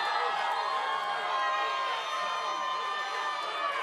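A capacity crowd at a ShamrockFC Xtreme 7 cage fight roars steadily, a loud continuous wash of cheering and shouting that fills the arena without a break.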